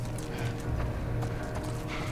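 Horse hooves clip-clop steadily in the video game The Last of Us Part I, a rhythmic run of hoof beats at close range, loud and continuous with no speech.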